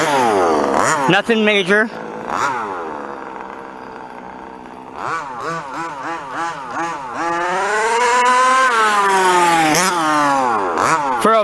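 A stock King Motors 30.5 engine in a two-wheel-drive Associated 5th-scale RC truggy, revving loud and near at full throttle in repeated rising and falling rips, with a brief spoken remark.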